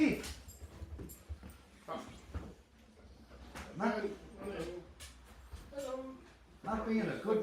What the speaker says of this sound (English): My dogs are making racket, which is really annoying.